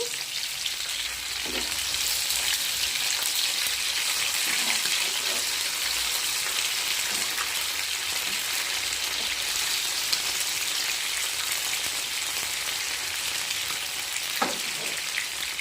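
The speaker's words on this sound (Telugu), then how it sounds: "ప్రాన్స్ పకోడీ అయితే చేస్తున్నానండి." Prawn pakoda fries in oil with a loud, dense, continuous sizzle like heavy rain, a few faint clicks now and then, steady and near throughout, no voices.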